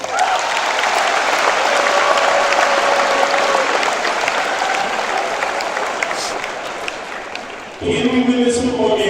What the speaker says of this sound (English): Give yourselves an applause